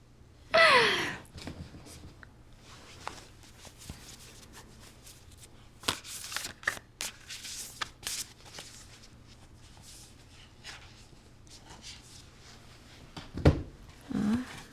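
Tarot cards shuffled by hand in a quiet room, with a loud riffle near the start, scattered soft slaps and flicks through the middle, and another burst of card handling near the end; no talk.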